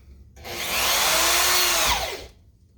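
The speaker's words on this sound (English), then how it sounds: "these are pretty good at just self-drilling, so I didn't have to pre-drill" A power drill whirs loudly for under two seconds as a self-drilling screw bites in without a pilot hole, its motor pitch rising before it stops and cuts off.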